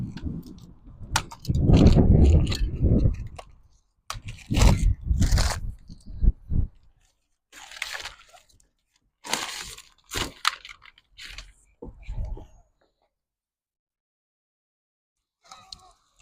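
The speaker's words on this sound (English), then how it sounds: "We'll get some more of the packaging off it." Plastic and cardboard packaging pulled off a Trek Domane SL 7 road bike in a bike shop, bursts of close crinkling and tearing separated by short pauses, ending in near silence.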